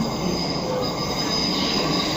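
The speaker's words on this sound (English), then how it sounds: "Train arriving platform 1 at Monument for South Shields. Metrocar 4038." Tyne and Wear Metrocar train pulling into the platform at Monument underground station, wheels squealing loudly and continuously against the rails over a steady rumble, close by and without voices.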